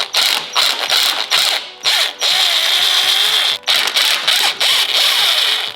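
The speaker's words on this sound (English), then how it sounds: "So once all they're taken off, I can start undoing the 3 main bolts." A hand ratchet clicks rapidly and close up while undoing the main bolts of a high pressure fuel pump on an Audi TT, in quick repeated runs broken by short pauses.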